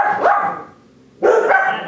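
A dog barks twice, close and loud, each bark a sharp yelp with a short tail, separated by a brief pause, with no talk over it.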